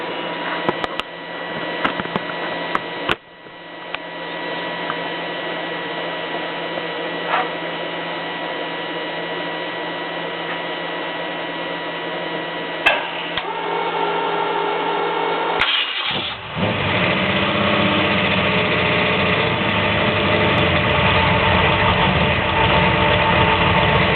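A Ford 393 stroker V8 (351 Windsor based) with FAST EFI cranks and fires, then settles into a loud, steady, slightly uneven idle, close up with no talking.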